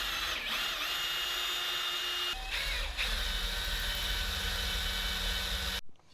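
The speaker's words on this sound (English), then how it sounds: "I think drilling is my best bet." A power drill runs loud and steady up close as it drills through a painted part, holding a continuous whine with a brief dip in pitch midway before stopping abruptly at the end, with no talking.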